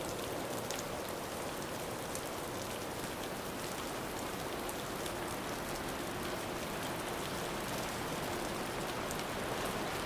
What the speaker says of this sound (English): Rain drums steadily against the wide wood eaves